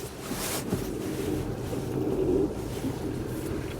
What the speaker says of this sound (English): All the blowers work on every setting.